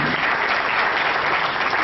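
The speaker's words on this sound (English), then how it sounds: "Ladies and gentlemen, a hand of applause to her." An audience at the 2013 World Summit Awards ceremony in Colombo applauds an honoree: dense, loud, even clapping from a crowd, continuous throughout.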